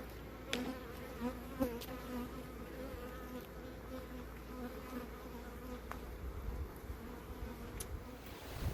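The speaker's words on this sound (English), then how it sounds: "We've got some guard bees checking us out." Guard honeybees buzz around close by at a backyard hive, a steady drone with individual bees zipping past the listener, outdoors with faint background noise.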